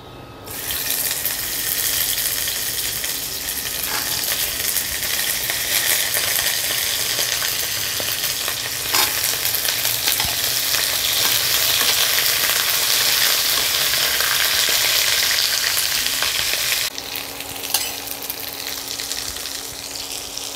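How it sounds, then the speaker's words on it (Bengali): Small-cut cauliflower fries in a pan with tempered spices, a loud, unbroken hissing sizzle that holds steady for a long stretch, with occasional stirring knocks and no speech. "ফুলকপিটা হালকা ভাজা হয়েছে"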